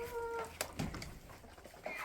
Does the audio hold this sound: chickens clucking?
yes